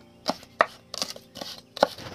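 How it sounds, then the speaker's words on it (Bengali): A kitchen knife chops green chilies and coriander leaves on a board, giving a series of sharp, irregular thuds close by. "আমি কাঁচা লঙ্কা ধনেপাতা কেটে নিচ্ছি"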